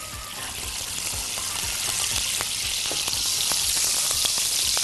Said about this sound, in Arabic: وفي طاسة على النار هبتدي أنزل السمنة